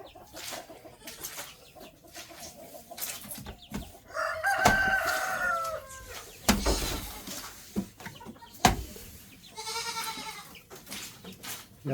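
Chickens in a coop cluck and squawk in scattered bursts at close range, with a rooster-like crowing call rising partway through amid general farmyard bustle.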